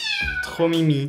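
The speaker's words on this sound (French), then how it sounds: "Ça me fait trop de la peine d'entendre tous les petits chats." Kittens give short, bright, rising-and-falling meows in quick succession, close and clear, while a person talks softly alongside them.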